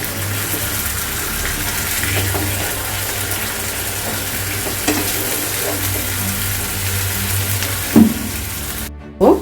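Water poured into a pan of hot frying spices while cooking egg lababdar, giving a steady broad sizzle and bubbling that runs throughout, with a few sharper splashes and clinks near the end.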